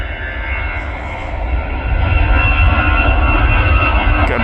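Singapore Airlines Airbus A350 jet at Manchester Airport, a steady broadband engine roar that swells louder midway as the airliner nears, heard from a viewing park with no talk.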